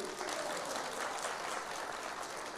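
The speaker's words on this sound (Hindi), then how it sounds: "तालियां बजाइए इनके लिए" Faint, even applause from an audience at a Srimad Bhagavatam lecture, a steady wash of many hands clapping alone for a couple of seconds.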